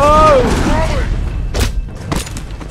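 Two sharp gunshots from the video game The Wolf Among Us, loud and close, following a shouting voice, with a tense music or tonal swell fading out underneath.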